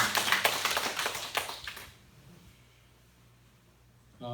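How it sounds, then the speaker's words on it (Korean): A church congregation applauds during a Sunday service, a burst of dense clapping that fades out after about two seconds, followed by a quiet room and a brief louder noise at the end. "박수 한번 하실까요?"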